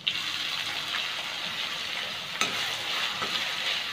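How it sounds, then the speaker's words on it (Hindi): Finely chopped onion and green chili fry in a hot pan, a close, continuous sizzling hiss with a brief stirring scrape partway through. "और अब मैं इसमें डाल रही हूँ ये बारीक कटा हुआ प्याज"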